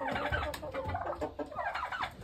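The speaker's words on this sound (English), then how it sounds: "So we got 11 roosters in this coop." Eleven roosters in a coop on a cold morning, a dense close chorus of overlapping clucks and gobbling crows with no talk.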